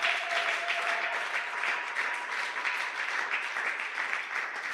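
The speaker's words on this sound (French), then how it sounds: "Est-ce que tu peux acclamer très fort pour la gloire de Jésus?" A church congregation at a Sunday praise service applauds, a sustained wash of many hands clapping together, fairly loud and steady from start to finish with no voices standing out.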